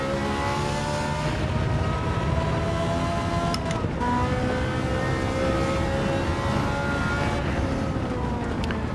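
A classic Ferrari's engine roars steadily under load in Gran Turismo 7 on PSVR2, its sustained loud mechanical drone shifting pitch through gear changes with no pauses.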